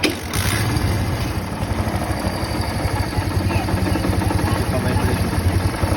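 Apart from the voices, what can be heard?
motorcycle engine running with worn crankshaft bearing noise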